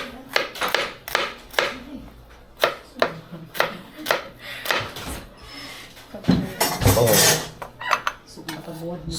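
Onion, Bombay type, chopped with a knife on a board: quick, crisp knocks in a steady run, then heavier clatters and a scraping shuffle near the end, close and clear.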